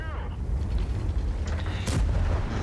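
The main gun of a T110E5 tank fires in the World of Tanks video game, a deep rumbling boom that rolls on under continuous heavy engine noise and battle sound.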